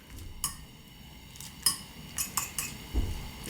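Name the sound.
stirring rice noodles in a bowl of water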